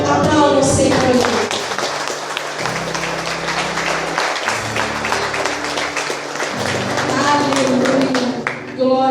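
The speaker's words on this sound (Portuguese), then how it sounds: "Aplauda o Senhor" A church congregation applauds during a Portuguese-language evangelical service, dense clapping sustained throughout, mixed with loud music, a sustained bass organ or keyboard, and voices.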